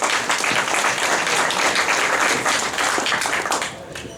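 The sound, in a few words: audience applause at Lions Club meeting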